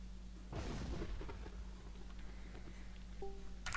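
A lightning strike weapon in the artillery game Shell Shock Live hits with a sudden loud crackling blast that rolls off like thunder, followed by a fading rumble and a short electronic tone at the end, with no voices.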